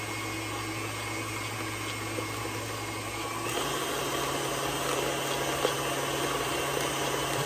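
An electric mixer beats eggs into yellow cake batter with a steady, droning whir. Partway through, its pitch and load shift as it keeps running without pause.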